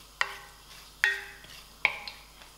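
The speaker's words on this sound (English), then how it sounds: "stir this till I hear a busting sound" Mustard seeds and cumin popping in hot oil in a pan as the spices are stirred: three sharp, distinct pops spaced about a second apart, close and fairly faint against a quiet background.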